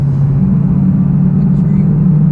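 A Dodge Challenger with a supercharged 6.1 engine and an upgraded camshaft rumbles loudly and steadily from inside the car, a deep, constant droning note with no clear shift break, while someone talks over it.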